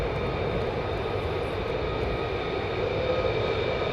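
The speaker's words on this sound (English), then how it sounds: "The next F-15 is getting ready for departure." An F-15 fighter jet at RAF Lakenheath, holding near runway 24 before departure, gives off a steady, loud engine roar heard from a distance, continuous and unbroken with no voices over it.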